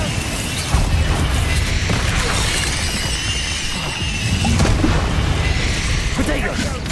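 Fiery blasts from the Confringo spell in a Harry Potter video game boom and crackle repeatedly in a dense, loud wash of explosions and debris, with a voice calling out spells over the din.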